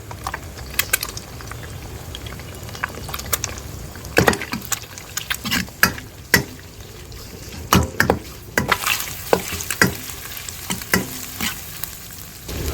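Marinated prawns and half-cooked egg fry in a pan for village-style fried rice, with a spatula stirring and scraping hard against the metal in loud, irregular clatters over a continuous sizzle and bubbling.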